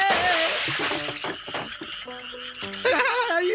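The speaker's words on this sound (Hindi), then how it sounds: "हमारा सारे मेढक बाहर निकल गए" Frogs croak in a cartoon, a dense, loud, rapid chorus of bubbly croaks with splashy water-like noise and a rising squeal near the end, no talk.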